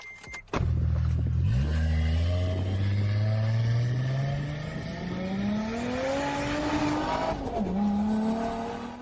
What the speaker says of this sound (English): now we are going to accelerate and see how this car drives